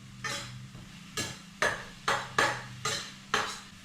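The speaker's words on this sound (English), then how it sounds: "And we're just going to fry them off quickly." Spring onions and sambal being fried quickly in a pan for Indonesian nasi goreng, with about seven sharp stirring or tossing scrapes at a steady, uneven pace over a faint sizzle.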